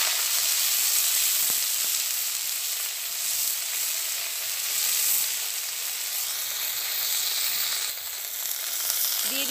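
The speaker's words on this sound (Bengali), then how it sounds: "এবার আমি কেটে রাখা ব্রাহ্মী শাকগুলো ভালো করে ধুয়ে রেখেছিলাম তেলের মধ্যে তুলে দেব" Brahmi greens sizzle in hot mustard oil, a steady, close, dense hiss running without pause and shifting slightly as the leaves settle.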